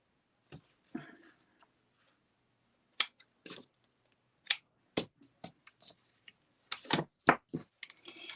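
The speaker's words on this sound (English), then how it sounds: "And then we'll cut this with some ribbon scissors." Quiet, sparse snips and short clicks of ribbon scissors, several crisp cuts in irregular bursts, close up with no talking.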